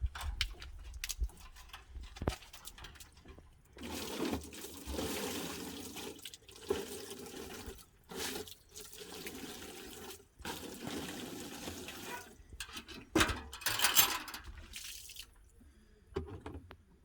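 Water splashes and trickles into old containers being filled, coming in irregular bursts of pouring with short pauses and clunks between them, moderately close.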